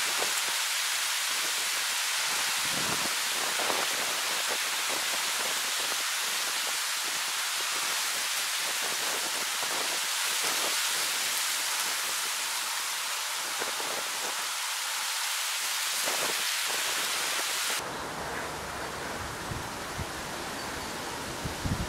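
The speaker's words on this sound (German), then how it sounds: "was diesen starken Wind betrifft" Strong wind roars across open moorland in a broad, steady rush with gusty surges, continuous throughout and shifting in tone near the end.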